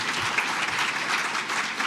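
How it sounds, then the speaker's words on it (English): An audience at an awards ceremony claps steadily, producing a continuous dense patter of many hands that holds at an even, fairly loud level throughout, with no speech. "I'm actually very glad that you clapped at that point"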